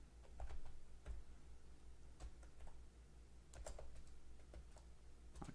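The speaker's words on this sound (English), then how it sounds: "I need to be able to type" Typing on a computer keyboard, quiet and close, in irregular bursts of clicky keystrokes with short pauses between them.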